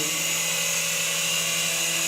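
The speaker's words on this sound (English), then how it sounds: "So this is the full throttle backwards." An RC helicopter flying backwards at full throttle, a steady high-pitched whine from motor and rotors with strong tonal hum, loud and close and constant, with no talk.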